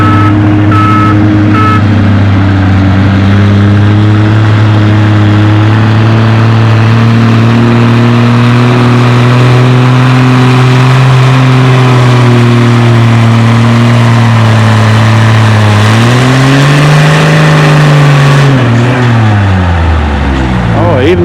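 A pulling tractor at a tractor pull competition in the 4000 to 4250 lb classes, its engine roaring loud and sustained, pitch swelling and dipping before surging and dropping off near the end, close and overwhelming.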